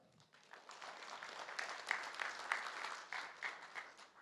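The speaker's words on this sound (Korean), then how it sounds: "박수로 모시겠습니다" A crowd at a business forum in Gangwon, South Korea, applauds steadily for a few seconds to welcome a speaker, the clapping building quickly and sounding somewhat distant and soft.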